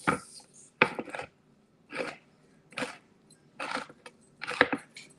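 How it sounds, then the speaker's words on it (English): Drained ingredients for lettuce wraps being chopped by knife on a board, six or seven separate dull chops spaced about a second apart, close and fairly quiet with no talking. "we're gonna get these drained, and then we're just going to chop these up"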